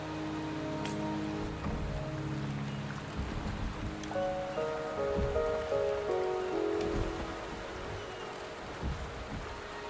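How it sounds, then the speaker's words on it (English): Steady rain falls across a rainy scene in the video game Wuthering Waves, a dense, even patter of drops on surfaces with low tonal game music beneath, continuous for the whole stretch with no talking. "The rain is subsiding, and the sky will soon clear."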